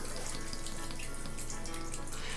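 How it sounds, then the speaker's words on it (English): Raw apple cider vinegar pours steadily into a jar, a continuous close liquid rush with a faint low hum underneath. "we'll just pour it over, filling up the jar"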